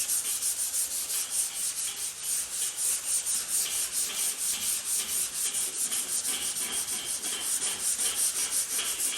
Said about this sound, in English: We're just trying to keep the surface smooth, flat, and get rid of